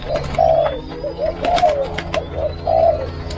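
Spotted doves kept for breeding coo repeatedly nearby, several soft low rolling calls in an irregular rhythm over a steady background hum, with occasional faint clicks and rustles.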